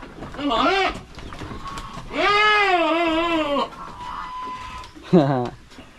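Young goats bleating on a farm, several loud wavering bleats in separate bursts, close by, with a few quieter bird-like calls between them.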